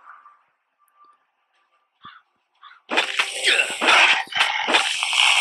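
A dog barking and whimpering in the survival video game Last Day on Earth; after faint soft whines, a burst of loud, close, rapid barking and yelping fills the last few seconds.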